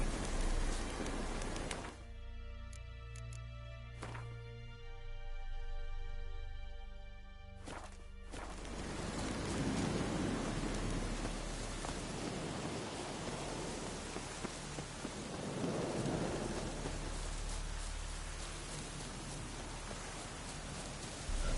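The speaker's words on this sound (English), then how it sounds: "Looks like rain." Steady rain falls in The Witcher 3, a broad wash of drops on surfaces that follows a short quiet musical stretch and then runs continuously at moderate level, with no clear thunder standing out.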